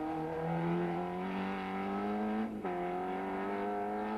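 A Peugeot 309 rally car on slick dry-weather tyres drives a stage of the 1990 Circuit of Ireland Rally, its engine a loud steady drone that climbs slowly in pitch, then briefly dips at a gear change before pulling again.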